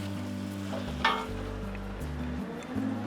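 Chopped canned tomatoes sizzle and fry in a hot pan while being stirred in, a soft continuous crackle with a brief scrape of the spoon; no talking.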